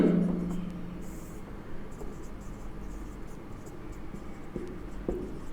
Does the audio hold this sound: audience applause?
no